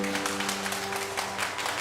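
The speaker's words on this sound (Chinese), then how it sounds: "请来宾掌声鼓励" Applause from the audience follows a kindergarten music and dance performance at a school showcase, a dense, continuous patter of many hands clapping at moderate volume over a low steady hum.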